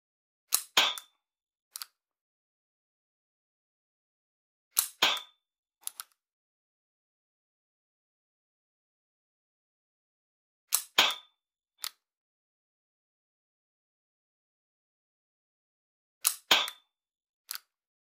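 A hammer pistol is cocked and dry-fired during laser shooting practice: sharp, close mechanical clicks and snaps in four tight clusters roughly five seconds apart, with silence between and no talking.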